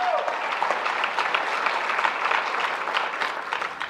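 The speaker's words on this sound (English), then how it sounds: "one more applause for the Patriot High School staff" Sustained applause for the Patriot High School staff at a 2025 graduation ceremony: a large crowd claps steadily and densely for about four seconds without letting up.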